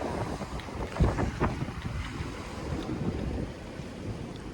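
Wind blowing outdoors on a sunny day in Japan, a loud steady roar buffeting the microphone with gusty low thumps.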